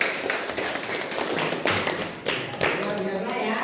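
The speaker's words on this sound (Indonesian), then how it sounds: "Oke, tepuk tangannya dulu" Classroom applause from students in a science lesson, a burst of clapping with some taps and thumps, mixed with children's voices chattering over it.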